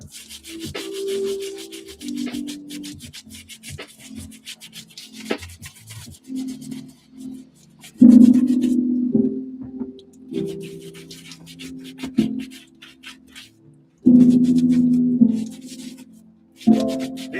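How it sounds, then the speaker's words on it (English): A light bristle brush scrubs Nike Dunk sneakers, close rhythmic rubbing and scratching strokes that come in uneven bursts with louder scrubbing passes near the end, no talk. "Your third best friend, light bristle brush."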